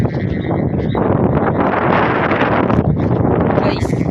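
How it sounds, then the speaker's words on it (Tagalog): Strong wind buffeting outdoors, a loud continuous roaring rush with gusty surges and rustling, close and unbroken for several seconds. "Sobrang lakas ng hangin kasi."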